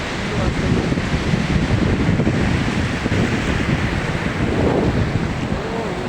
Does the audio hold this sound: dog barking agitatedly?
no